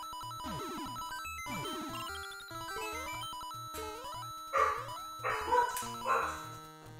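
Several dogs bark, yip and whimper in short overlapping bursts partway through, under steady electronic music from a Mario Maker 2 game, with no talking.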